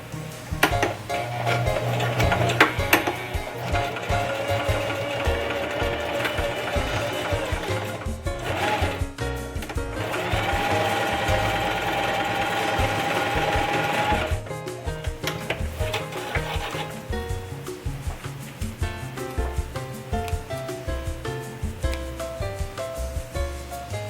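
A sewing machine stitches fabric for a crib sheet, running in rapid rhythmic bursts that stop and restart several times as it goes back and forth, with a steadier long run in the middle.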